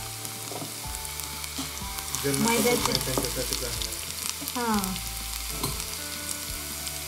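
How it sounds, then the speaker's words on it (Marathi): Ginger and ajwain seeds sizzle in hot oil, with a close, continuous frying hiss that swells midway, while a voice speaks briefly. "तेल घेतलं, त्याच्यामध्ये थोडंसं अद्रक टाकलं आणि ओवा टाकायचा थोडासा"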